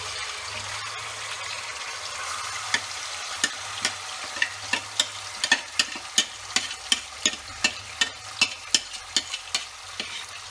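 Spices stirred into hot oil in a pan for chicken biryani: a continuous sizzle and fry with a run of sharp, regular scraping strokes from the stirring, close and clear, with no talk.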